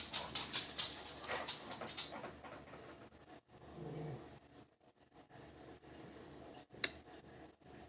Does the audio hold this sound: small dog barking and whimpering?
yes